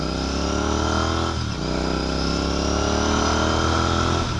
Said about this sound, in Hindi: ये एक शॉर्ट राइड थी with the red rooster in the continental 650